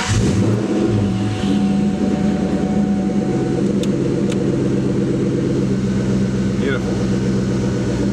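A Terminator Cobra's engine starts and runs at a steady idle, a low continuous rumble that stays loud and close throughout, with a voice briefly talking over it.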